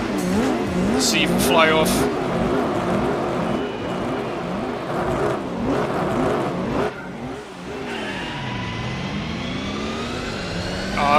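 A race car in Gran Turismo 4 laps the Nurburgring during a four-hour endurance race, its engine revving up and down in rapid swoops as it brakes and accelerates, with a player talking over it.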